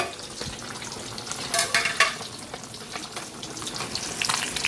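Dalagang bukid fish fries in hot oil for sweet and sour, giving a dense crackling sizzle with occasional louder pops and spatters, close up and with no talking.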